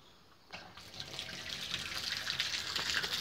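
Water gushes from a bathtub tap in a guesthouse bathroom, starting abruptly after a short quiet moment and building into a steady, close rushing stream that grows slightly louder as it runs.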